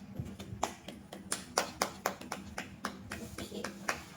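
A child claps hands during a phonics lesson on the letter I, about a dozen sharp, close claps in an uneven rhythm, with faint voices murmuring underneath.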